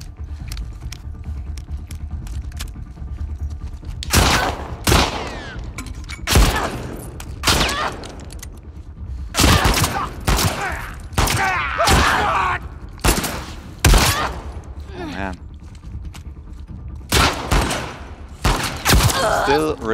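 Gunfire in The Last of Us Part II, with repeated loud shots in ragged clusters across an ongoing firefight, separated by short pauses and set against quieter ambient sound.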